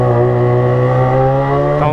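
A Yamaha XJ6 motorcycle with a loud exhaust in city traffic holds a close, steady, buzzing harmonic engine note, rising slightly at the very end.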